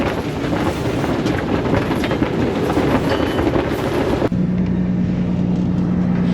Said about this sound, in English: Then the storm comes, 35 knots, more in gusts.